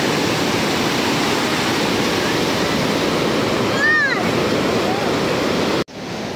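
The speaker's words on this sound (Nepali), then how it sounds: "गिरेको पानी नेपालबाट" A waterfall in Nepal roars as a loud, steady broadband rush close by, with a brief chirp near the middle and a sudden dropout just before the end.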